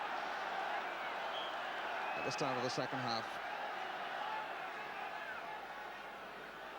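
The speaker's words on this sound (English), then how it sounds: "And some encouragement from the crowd for Rangers" A football crowd at a 1979-80 English First Division match makes a steady, distant roar of encouragement for Rangers. A commentator briefly speaks over it.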